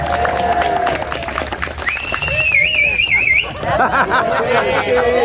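An audience at a lively Indonesian political talk show bursts into applause and cheers, with loud whistles and crowd babble mixing with the clapping and voices close by.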